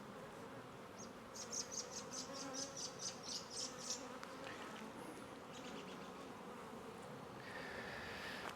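A honeybee swarm buzzing around hive frames, a steady hum with a denser, louder pulsing buzz near the start and faint scattered wingbeats throughout, no voices.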